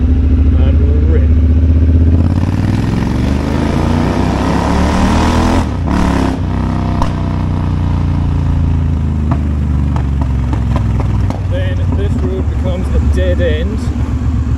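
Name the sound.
motorcycle accelerating in second gear through a tunnel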